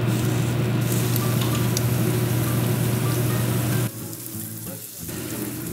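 USDA Prime ribeye steaks sizzle on a grill as a loud, steady hissing roar close by, which drops away abruptly near the end before a quieter hiss resumes.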